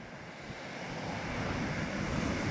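Ocean waves and swell wash against the shore on a fishing outing, a steady broad roar that swells slightly louder toward the end with no one speaking.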